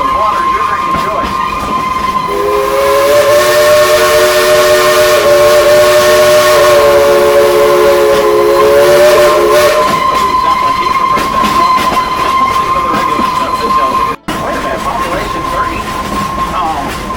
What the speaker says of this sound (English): give us a couple tunes on that whistle